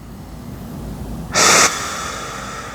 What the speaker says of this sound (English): breathing deeply into the lower belly, filling your hara with air.